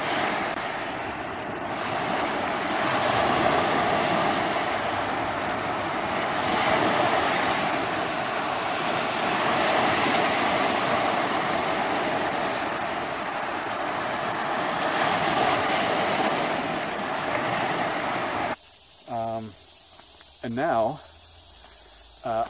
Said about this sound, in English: there's a waterfall here, and it's called the Eternal Flame Falls